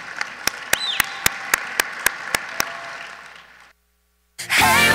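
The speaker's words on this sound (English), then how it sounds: "Let's give a round of applause to the Iowa Association of Agriculture Educators" Applause from the audience at a state FFA leadership conference session: about ten sharp, evenly spaced claps over a steady crowd wash that fades to silence, followed by a loud burst of noise.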